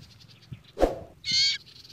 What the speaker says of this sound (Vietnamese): Tiếng chim con này nó kêu thì chim mẹ nó tới rất là hung dữ.